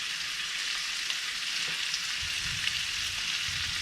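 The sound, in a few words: beef tongue pieces searing in a pan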